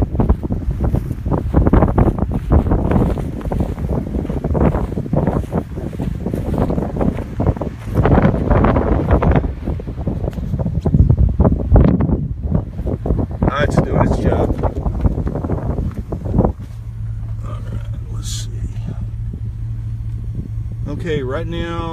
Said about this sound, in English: right now, sustained winds. Probably in the 20 mile per hour range.